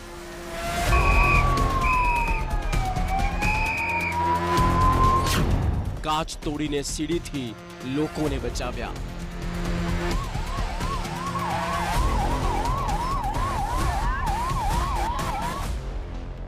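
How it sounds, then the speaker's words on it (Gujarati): Ambulance sirens wail, rising and falling loudly throughout, shifting into a rapid yelp pattern at a hospital complex fire, with a news voice talking over them. "પચીસ એમ્બ્યુલન્સ પહોંચી ઘટના સ્થળે"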